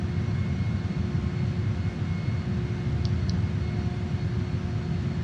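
A jet airplane roars steadily on approach to land on runway 35, a loud continuous engine drone with a brief faint chirp partway through and no talk.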